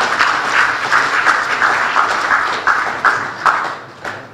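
Audience applause fills a hall during a governor's budget speech, a steady wash of many hands clapping with a few sharper claps standing out, loud and sustained throughout before easing slightly at the end.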